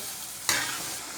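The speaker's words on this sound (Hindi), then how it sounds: "एक से 2 मिनट के लिए इसे भूनते हैं दाल को।" Dal lentils being stirred and fried in a pan for a karela chana dal, a close scraping stir with a brief louder sizzle burst midway over a steady background frying hiss, with no talk.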